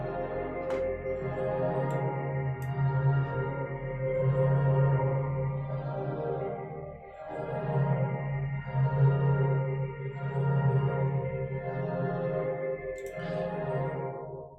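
A sample pitched down an octave through a spectral plugin and a huge reverb makes a dense, murky wash that swells and recedes in slow waves, with faint sparkling ticks on top and no voices.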